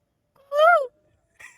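A person imitates the call of a koel bird with a rising-falling whistled-voice cry, close and loud, followed by a short softer second note.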